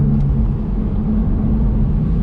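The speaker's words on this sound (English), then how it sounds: "You get much more of the rasp of the engine." Porsche Boxster S with a manual gearbox, engine rasping steadily while driving, a loud continuous low rumble from inside the car with no voices.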